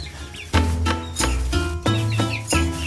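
Young chickens in a makeshift brooder inside an old homestead shed let out several close, loud clucks and short calls in an uneven rhythm, with faint peeping between them.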